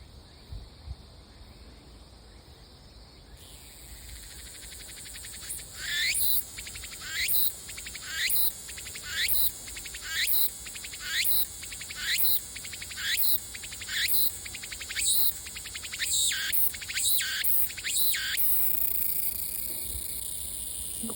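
Cicadas sing from a tree in summer, a loud rhythmic series of buzzing pulses, about a dozen bursts in a steady pulse after a quieter opening, close and alone without talk.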